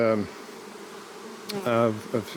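Honey bees buzzing at an open hive during a beekeeping inspection in Newfoundland: a steady, fairly close drone with a few brief, louder humming swells, one near the start and others toward the end.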